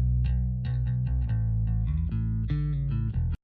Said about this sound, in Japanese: 実はここにコルグさんのプロローグっていうシンセサイザーを使って